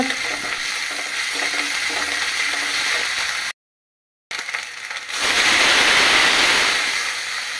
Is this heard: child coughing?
no